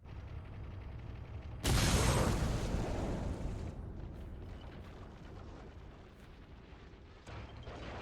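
A Hobbs bomb is fired and explodes in the Ace Combat 6 video game, a sudden massive blast that roars loudly, then slowly decays into a long rumbling tail, with a smaller thump near the end.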